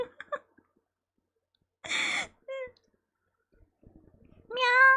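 A human voice imitates a cat, making a few short meows spaced across a few seconds with breathy noises in between; the last meow is the longest and loudest.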